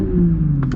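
A 2021 Toyota Supra engine in normal, non-sport mode rumbles loud and close in a brief burst of revving, a low steady drone with a slight rise at the end.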